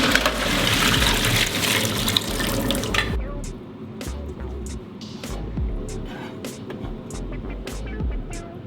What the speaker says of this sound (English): I'm just gonna drain that water.